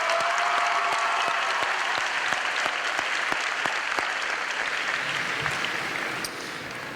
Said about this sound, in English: Students, a round of applause for your family who supported you over 4 years.